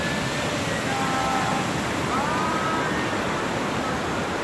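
Water rushing steadily down the Córrego da Onça stream, a constant broadband wash of flowing water close by, with faint chirps of birds riding above it.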